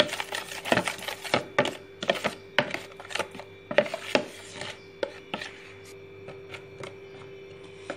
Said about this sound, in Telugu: ఈ విధంగా మనం లంప్స్ అనేవి లేకుండా మైదా పిండి అంతా కలుపుకోవాలి